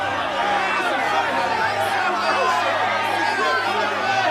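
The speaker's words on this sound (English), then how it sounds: "Dominic was frightened as a mighty roar rose from the crowd." A large crowd gathered at a Passover trial roars and clamors in continuous loud babble, with a few sharper voices standing out from the mass.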